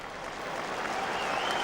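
Big stadium crowd at Ibrox applauding during a Rangers championship flag unfurling before a match against Kilmarnock, a broad wash of distant clapping and crowd roar that swells slightly.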